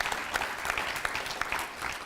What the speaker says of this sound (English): So I think we should give that a round of applause.